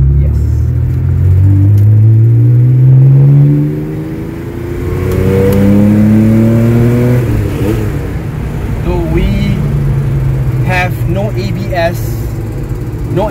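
Porsche 930 SC Targa with a 3.2 naturally aspirated engine pulling in second gear, loud close engine drone rising in pitch as it accelerates, easing off, then climbing again, with someone talking over it.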